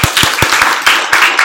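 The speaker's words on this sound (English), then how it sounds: "Everybody give a clap." An audience gives a short, loud burst of clapping in a room, with sharp overlapping claps over about a second and a half.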